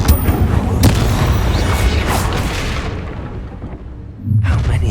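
A fiery Incendio spell blast in the video game Hogwarts Legacy, a loud whooshing, booming burst with sharp cracks that roars for a few seconds, fades out, then flares up again near the end.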